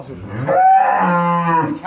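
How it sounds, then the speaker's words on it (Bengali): A young bull calf gives a single loud, close moo lasting about a second and a half, with no other sounds around it. "একটা ষাঁড় বাছুর। এই যে বাচ্চাটা"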